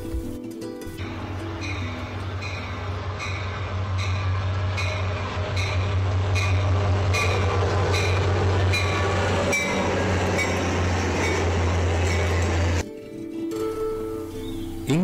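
A train runs through Kadugannawa railway station on Sri Lanka's upcountry line: a loud, close, steady rumble with regular clickety-clack wheel beats, dropping away sharply near the end.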